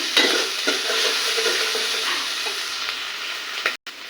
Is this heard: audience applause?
no